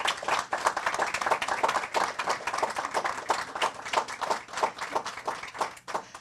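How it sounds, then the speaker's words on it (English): A group claps for students at an arts-in-education event, a steady round of dense applause throughout that stays moderately loud, with no voices rising above it. "Why don't we give them all a round of applause?"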